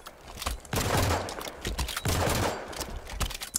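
Rapid bursts of automatic weapon fire in Halo 5: Guardians, two sustained volleys of loud, dense shots with short gaps between them, followed by a few scattered shots.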